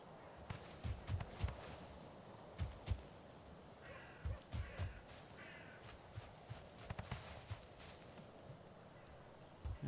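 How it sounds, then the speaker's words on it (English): Crows cawing in the video game Valheim, several short harsh calls scattered over a quiet outdoor ambience with occasional soft footsteps, fairly faint and at a distance. "Why the hell are the crows out here?"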